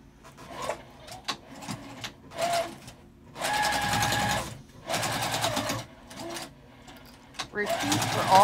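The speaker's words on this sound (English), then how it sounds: "Basically just gonna sew across there." A sewing machine stitches across a zipper pouch in several short bursts, each a loud, close mechanical whirring run separated by pauses, with a voice speaking in between.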